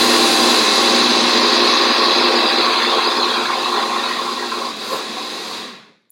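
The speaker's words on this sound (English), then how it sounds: "So go in the blender for maybe 30 seconds" A kitchen blender grinds granulated sugar into superfine sugar, a loud close whirring that runs steadily for several seconds, loses some strength, then winds down and stops.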